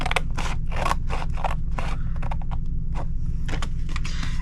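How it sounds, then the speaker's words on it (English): Scissors cutting cardstock up to a score line for a Halloween treat box: a close, rapid series of crisp snips and scrapes over a steady low hum. "cut it to the second score line, and take these 4 pieces off."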